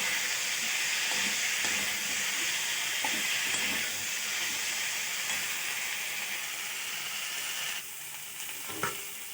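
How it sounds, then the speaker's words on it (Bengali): Spices fry in oil for a vegetarian potato and cauliflower curry, producing a loud, continuous sizzle and hiss with stirring scrapes, easing slightly toward the end. "মশলা ভাজা হয়ে গেছে।"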